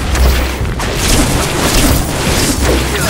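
A fireball spell explodes in the action RPG The Incredible Adventures of Van Helsing, a dense, loud roaring blast that fills the whole stretch as a continuous rumbling burst with no pauses.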